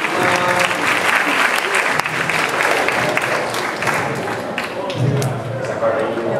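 Lively audience applause during an entertainment segment at an enrollment event, a sustained wash of many hands clapping, loud and close, with voices and cheers mixed in near the end.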